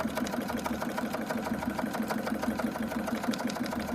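A sewing machine stitches through a handmade Christmas card trimmed with sari ribbon, running as a steady, even mechanical whir with a rapid repeating needle rhythm throughout, close and continuous with no voices.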